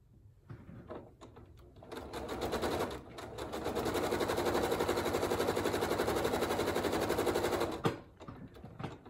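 A sewing machine stitching quilt strips, a few short starts and then a long steady whirring run of needle strokes that stops abruptly near the end, close and moderately loud.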